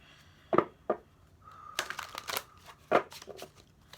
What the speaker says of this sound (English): So let me shuffle 3 times for y'all.